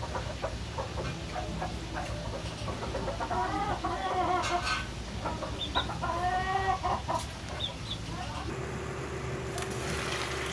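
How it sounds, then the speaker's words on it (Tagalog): Chickens cluck in an outdoor yard beside a laundry spot, a few distinct calls rising over a steady background hum, with faint voices nearby. "Mga manok dito."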